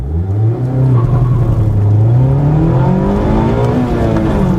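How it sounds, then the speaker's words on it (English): A Mazda MX-5 Homura Edition roadster revving hard through a launch, its engine note climbing steadily and loud, close up with a rising whine. "Little launch, then you really need to rev it to get the momentum going."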